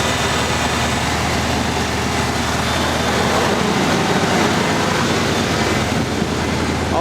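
Engine of a 1983 Ford F150 4x4 pickup with exhaust leaks, idling steadily as a low, continuous rumble with a broadband hiss, close and constant throughout.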